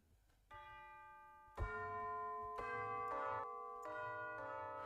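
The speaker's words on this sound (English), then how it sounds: "if you're ever looking for tubular bells, they have them in here" Tubular bells from a virtual instrument, struck in four successive chimes with bright, ringing overtones that sustain and overlap, clear and moderately close, with no talk.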